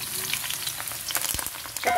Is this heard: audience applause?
no